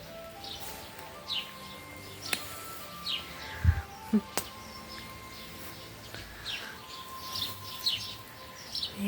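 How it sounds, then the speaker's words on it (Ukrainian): Birds chirp and call intermittently in an open outdoor setting, short bright tweets scattered over a quiet background with a few soft thumps. "пташки співає добре."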